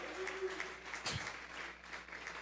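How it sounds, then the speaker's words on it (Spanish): A church congregation claps as an offering of praise during a Spanish-language sermon, a faint, distant patter of applause with one louder nearby clap. "Vamos a regalarle ofrenda de palmas al Dios de la gloria."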